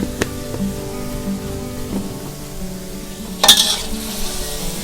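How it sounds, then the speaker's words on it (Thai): Garlic pork with egg stir-frying in a pan while seasoning is mixed in, a steady close sizzle broken by scattered spatula scrapes and one sharper clatter near the end, with no talking. "คลุกเคล้าให้เข้ากันค่ะ เราจะไม่ได้ผัดแบบให้เขาแห้งนะคะ"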